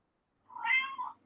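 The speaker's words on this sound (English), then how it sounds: "That's my cat meowing." A single clear cat meow, recorded and used as a phone text notification, rises out of silence and lasts under a second, close and fairly loud.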